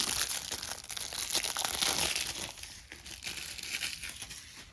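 Board game packaging is opened up close, giving a steady run of crinkling and crunching plastic wrap and cardboard with no talking.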